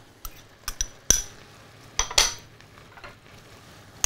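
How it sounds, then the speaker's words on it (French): Metal utensils clink and scrape against a pan in scattered knocks over a faint background while kidneys, mushrooms, crayfish and cockscombs are added to reheat for a vol-au-vent filling. "Et on va mettre tous les éléments à réchauffer dedans. Les rognons, les champignons, les écrevisses, les crêtes,"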